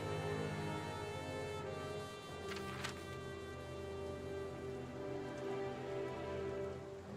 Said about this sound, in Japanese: すごい雨降ってる。